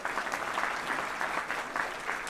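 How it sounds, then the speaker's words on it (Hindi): An audience applauds at a company grand launch event, a short burst of many hands clapping at moderate loudness, dense and continuous with slight pulses and no talk. "तालियां हो जाए"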